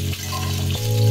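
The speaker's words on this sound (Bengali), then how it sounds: "তাওয়াতেই মাছটা ভেজে নিচ্ছি।" A single fish frying in oil on a tawa griddle, a steady close sizzle with a low rumbling hum underneath, brief and continuous.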